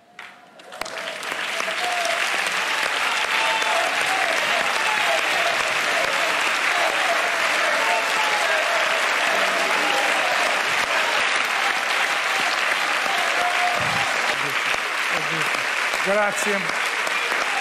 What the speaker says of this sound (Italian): è un applauso che va a tutti quelli che gli hanno voluto bene